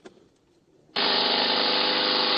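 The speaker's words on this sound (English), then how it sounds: "Don't drill the door." A power drill starts abruptly after a brief faint knock and then runs at a steady, loud, close whine, drilling into a door lock; no talking over it.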